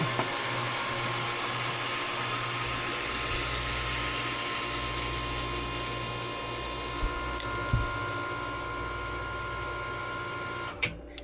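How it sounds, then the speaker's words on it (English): A pump switches on aboard a 1993 Hatteras 70 motor yacht, heard from below deck as a close, steady electric whine and hum that runs throughout, with a few faint clicks and knocks near the end. "It's always fun when I'm down here messing around with stuff and then that pump comes on."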